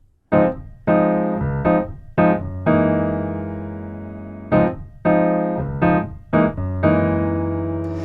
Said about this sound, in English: That lets me take my hands away and we hear the chord ring out.